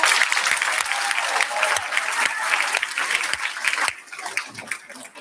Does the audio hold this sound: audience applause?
yes